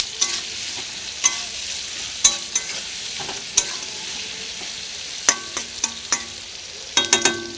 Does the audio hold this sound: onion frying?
yes